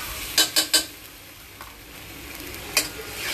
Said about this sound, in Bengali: তো আমি এখন মশলাটাকে একটু কষাই নেব